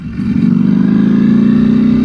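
A Ducati V4 SP motorcycle engine drones loud and smooth while riding at cruising speed, its steady mid-pitched growl rising slightly in revs, with no voices.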